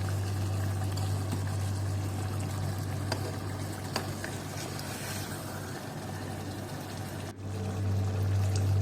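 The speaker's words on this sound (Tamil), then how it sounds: "நல்லா பாயில் ஆகட்டும் காய்ஸ்." Salted water boils in a cooking pot, a steady bubbling rush over a low constant hum that runs unbroken throughout, with no voices.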